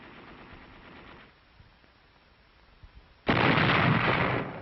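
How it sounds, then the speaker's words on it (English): Artillery and machine-gun fire from 1945 Okinawa combat footage: a steady roar of gunfire fades to quieter scattered reports, then a loud sustained burst of heavy firing returns for the last second and a half, with no voices. "Artillery of the 15th Marines pounded the Yaitaki defenses"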